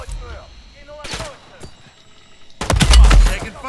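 Gunfire in the video game Modern Warfare Zombies: a couple of sharp shots early on, then a loud rapid burst of automatic fire near the end, with faint voices around.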